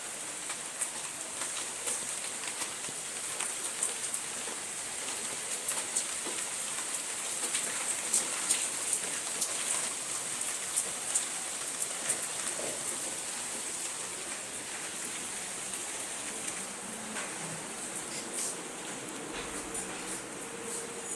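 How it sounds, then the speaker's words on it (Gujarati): Rain falls steadily outside during a monsoon shower with thunder about, producing a constant wash of raindrops on surfaces at moderate distance with scattered closer drips and faint background sounds. "બહાર તો વરસાદ ચાલુ થઈ ગયો અને ગાજવાનું ચાલુ થઈ ગયું"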